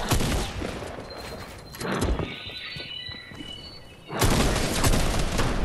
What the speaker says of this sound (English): Grenades is getting spammed.